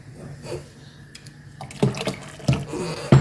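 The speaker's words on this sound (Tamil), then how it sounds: "கொஞ்சம் தண்ணி ஊற்றிக்கலாம்" Water is poured in small amounts into a wheat milk sweet porridge, a soft splashing and trickling in short bursts that grow louder toward the end, alone with no talk.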